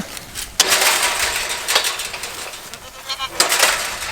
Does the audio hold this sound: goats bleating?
yes